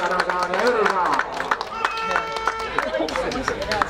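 Spectators clap at an outdoor motocross prize-giving ceremony, brisk scattered applause running beneath an announcer talking over a loudspeaker.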